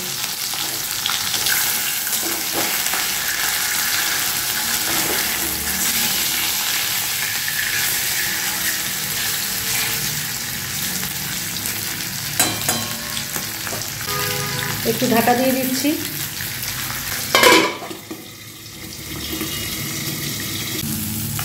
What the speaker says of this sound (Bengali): তেলটাকে গরম করে মাছ ছেড়ে দেখাচ্ছি। তেল গরম হয়ে গেছে, মাছ ছেড়ে দিয়েছি।